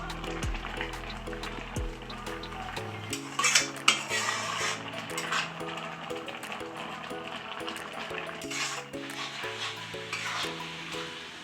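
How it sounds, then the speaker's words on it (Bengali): Carrot and milk for halwa being stirred in a pan over a high flame, a spoon scraping and clinking steadily against the metal bottom under a constant musical backing, with no talk. "এখন সমানে নাড়াচাড়া করব, নাহলে তলায় লেগে যাবে।"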